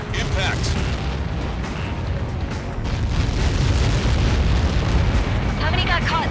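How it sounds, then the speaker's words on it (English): A massive explosion in the Ace Combat 7 video game, a long, loud, rolling rumble that swells partway through, with radio chatter at the start and end. "How many got caught in that explosion?"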